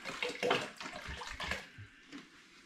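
Spring water being poured into apple puree in a home-brew cider vessel, a close, splashing gush that tapers off toward the end.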